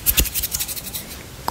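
Close, wet scratchy licking of a plate smeared with purple plum, a few irregular strokes with soft smacks, alone and quiet.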